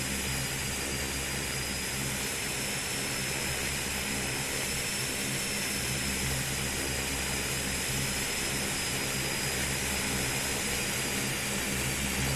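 Twin turboprop engines of a Saab 340 regional airliner taxiing at Philadelphia airport: a steady, loud propeller drone with a constant high whine running throughout, with no talk over it.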